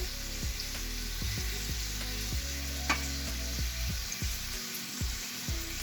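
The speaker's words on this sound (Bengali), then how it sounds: "এটা আমি এভাবে করে হালকা ভেজে নিব সামান্য তেলে" A bhorta ingredient lightly frying and being stirred in a little oil in a pan: a steady soft sizzle with scraping strokes of a spoon, fairly close and continuous, with no voices.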